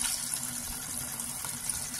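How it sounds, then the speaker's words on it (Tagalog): Cold tap water runs steadily over Chinese noodles being rinsed in a kitchen sink, a continuous even splashing hiss with no break. "Nirinse natin ng malamig na tubig"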